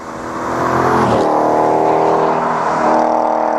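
A 2002 Chevrolet Corvette Z06 engine and exhaust swell to a loud, sustained roar, the revs rising and dipping slightly as the throaty note holds steady close by.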